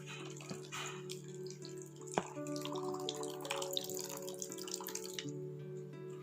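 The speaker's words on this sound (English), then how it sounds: "So for this soya chunks I am adding water and let it soak for 10 minutes" Water pours and drips into a bowl of dry soya chunks in a quiet kitchen, a soft uneven trickle with scattered splashes and small knocks, low in level with no talking.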